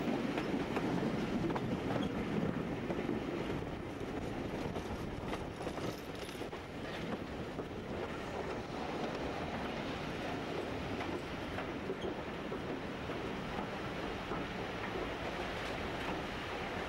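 A Type 1 diesel locomotive train runs on the Great Central Railway, a steady rumbling roll with faint rhythmic wheel clatter, moderately distant and continuous throughout.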